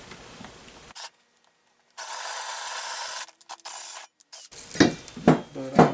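A power drill boring a hole in wood overhead while mounting a garage door opener: rough grinding bursts stop and start, followed by scraping, ratcheting strokes close by.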